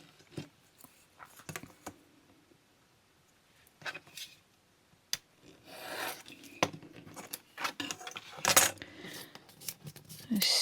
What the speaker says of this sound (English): Let's cut this straight first.